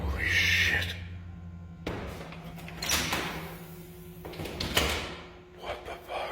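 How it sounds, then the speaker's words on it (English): A door swings shut on its own inside a house, giving a single clear thud partway through, with a low steady hum beneath and a person's voice talking nearby before and after. "this fucking door was open and now it just shut by itself"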